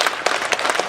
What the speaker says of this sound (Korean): 이 자리에 그분들을 위해서 박수를 한번 저는 치고 싶습니다